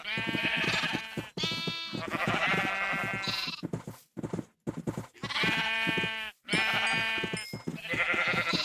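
Sheep bleat repeatedly in a video game, several loud drawn-out calls following one after another with short pauses between them.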